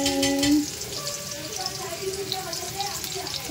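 Chopped onion and garlic frying in a pan with oil, black pepper and a little cream, a steady soft sizzle running under a voice talking throughout.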